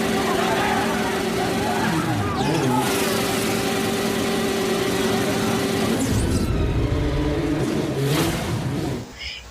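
A motorcycle engine is revved hard until it smokes, loud roaring surges rising and falling close by, with other noise mixed in and a brief drop near the end.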